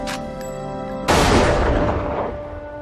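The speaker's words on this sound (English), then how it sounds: "doesn't mind the sound of gunfire" Rifle range gunfire, a single sharp loud boom cutting in over a sustained musical tone and decaying over about a second.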